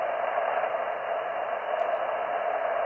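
Steady hiss of ham radio receiver static with the RF gain turned up, a dense even band of noise that runs continuously and alone at moderate level, with no voice coming through clearly.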